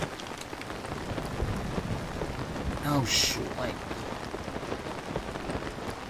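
Rain pours steadily in The Legend of Zelda: Tears of the Kingdom, a dense, constant hiss of drops over a low rumble, with a person briefly speaking over it.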